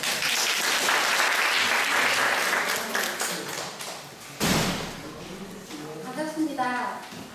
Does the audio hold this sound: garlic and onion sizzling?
no